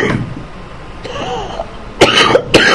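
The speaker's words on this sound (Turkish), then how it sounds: "Bu öksürük neden bilir misin?" A cough with a throat-clearing quality, two sharp bursts close to the mic near the end, heard over a quiet room background.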